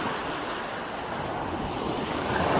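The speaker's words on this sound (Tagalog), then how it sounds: "May alon pa." Sea waves washing in close by, a continuous rushing wash of surf with wind that builds slightly louder toward the end.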